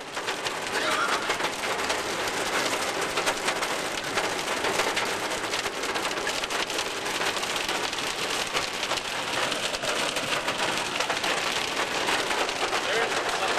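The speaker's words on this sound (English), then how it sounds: "Downpour at Crater Lake. An absolute downpour." Heavy rain pours down at Crater Lake, a dense, continuous roar of drops hitting surfaces that stays loud and unbroken throughout.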